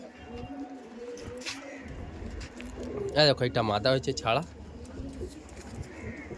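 Punjabi pigeons coo softly in a loft, with a louder burst of cooing midway, while someone talks over them for much of the time.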